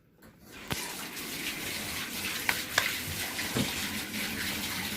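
A tap starts running and fills a tub for a pedicure, a steady close gush of water with a few small knocks and splashes and no voices.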